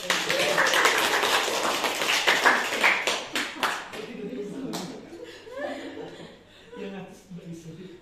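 A classroom of students in an English class gives a short burst of applause, dense clapping mixed with chuckles and laughter that thins out into scattered claps and chatter.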